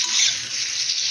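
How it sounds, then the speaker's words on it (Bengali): Potatoes and pointed gourd, meant for a soybean curry, frying in a pan, giving a steady, fairly loud sizzling hiss throughout with no talking. "এখানে এই যে সোয়াবিনের আলু পটলটা ভেজে নিচ্ছি।"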